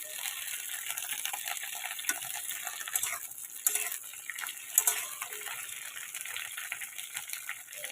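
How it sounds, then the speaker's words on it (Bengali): Large-cut okra (bhindi) fries in mustard oil in a pan with a steady, dense sizzle that runs throughout, broken by faint stirring scrapes and clinks, close and constant. "এবার ভেন্ডিগুলোকে আমরা ভেজে নেব।"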